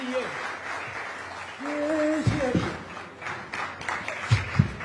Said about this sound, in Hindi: वही तालियां रुकनी नहीं चाहिए मेरे ख्याल से।